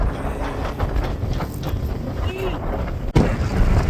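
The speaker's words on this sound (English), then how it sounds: "Like leaning into the wind to walk straight." Strong wind buffets the microphone with steady low rumbling roar, a sharp bump near the end; faint voices blend into the blustery noise, on the Continental Divide Trail between Leadore and Lima.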